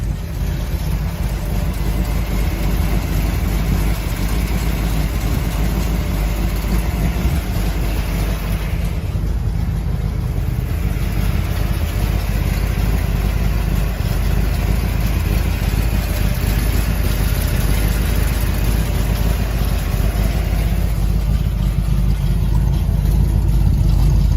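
A 1962 Chevrolet Corvette with a frame-off restoration and numbers-matching engine runs steadily and loud throughout, a continuous rumbling drone that holds near constant with a slight dip partway through, no talking over it.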